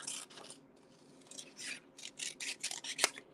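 Scissors fussy cutting a paper fish image out of a card, heard as a close, quiet run of short snips and paper rustles in an uneven rhythm, with one sharper snip near the end.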